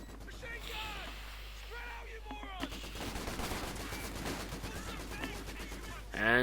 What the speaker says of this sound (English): And the Vickers is firing back.